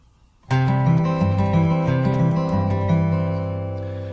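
Fast fingerpicked acoustic guitar pattern, a quick rolling arpeggio over bass notes, close and clear with no talking, ringing out at the end.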